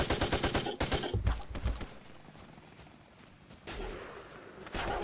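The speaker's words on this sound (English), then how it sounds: "We've got to find where these gunshots are coming from" Bursts of rapid gunfire in the video game Battlefield Vietnam crackle in the first two seconds, then a quieter stretch of ambient noise before more distant shots and rumble return.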